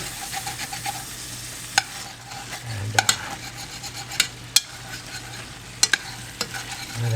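A thick Cajun gravy paste sizzles and fries in a pot while a spoon stirs it, giving a steady close hiss with sharp scraping clicks and taps against the pot at irregular intervals.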